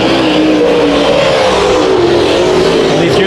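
Race cars howl around the Bakersfield Speedway oval in a night heat race, engines revving loud and continuous with shifting pitch as the field passes close by.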